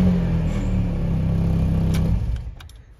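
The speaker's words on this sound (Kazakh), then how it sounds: "Көлік оталып тұр." A car engine runs steadily at idle with a low rumbling drone, close and fairly loud, then cuts out and fades away near the end.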